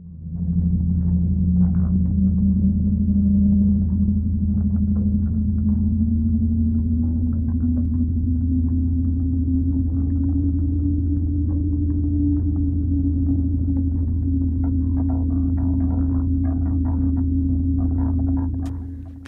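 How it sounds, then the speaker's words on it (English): A 1975 excerpt from Ned Lagin's Seastones electronic recording plays as a deep, steady droning hum with a slowly gliding low tone and faint flickering textures above, continuous and alone throughout. "That was from Ned Lagin's Seastones, released by Round Records in 1975"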